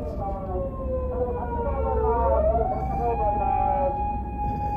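Emergency vehicle siren coming up from behind on a road, heard from inside a Subaru Outback: a loud wailing tone that rises and holds over steady road and engine rumble, with someone talking over it.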